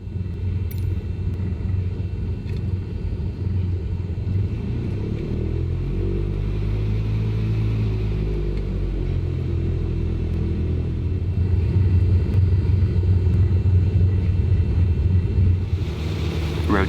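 A Cessna engine roars through a takeoff roll in Microsoft Flight Simulator 2020, a loud continuous low rumble and drone with wind-like noise that swells slightly toward the end.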